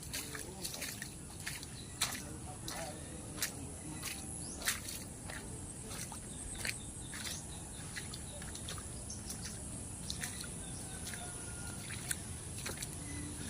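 A small boat pushed by hand across a flooded river, with soft sloshing and squishing water sounds and scattered splashy clicks and footsteps throughout, quiet and close, birds faintly in the background.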